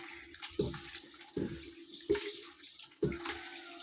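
Kale leaves being washed by hand in hot water in a village kitchen, with four distinct splashing sloshes spaced about a second apart, close and fairly quiet.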